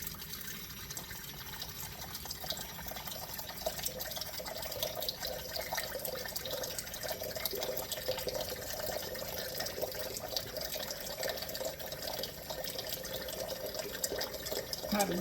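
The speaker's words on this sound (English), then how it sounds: "Get some hot water into your bowl," Hot tap water runs steadily into a bowl in a home kitchen, a continuous close splashing and gurgling flow lasting the whole stretch with no talking.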